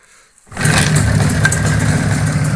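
A Jawa 638 motorcycle engine is hand-started in warm weather: after a faint quiet lead-in it catches abruptly and settles into a loud, steady, close-up idle with a rough mechanical chatter.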